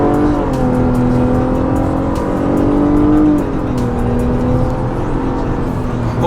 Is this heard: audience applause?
no